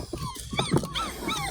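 Young puppies on their first outing into an outdoor playpen whimper and yip in a string of short, high, wavering cries, close by and fairly soft, with a faint low growl mixed in and no talking.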